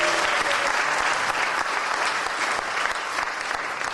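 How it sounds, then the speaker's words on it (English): An audience applauds at a live motivational talk and performance, a dense, steady clapping that fills all four seconds at even loudness with no voices standing out. "Give yourselves a round of applause."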